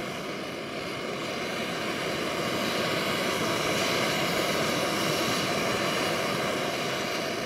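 BSR 8 multi fuel stove burner roars steadily like a jet, a continuous broadband rushing hiss that holds at constant loudness throughout, close and alone.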